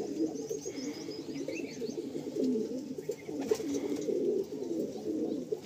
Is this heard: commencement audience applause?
no